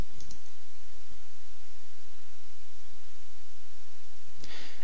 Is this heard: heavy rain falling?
no